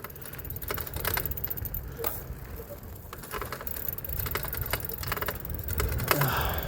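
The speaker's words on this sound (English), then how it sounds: "I hear it clicking and clacking over there like a roller coaster" Bicycle gears clicking and clacking during a night ride through city streets, a busy rattling texture with sharp ticks running steadily throughout, mixed with low road rumble.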